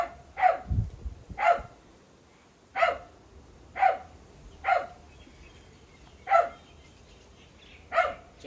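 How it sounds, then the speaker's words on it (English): A dog barks outdoors near beehives, with eight sharp single barks spaced a second or so apart, fairly close and loud. "barking at birds"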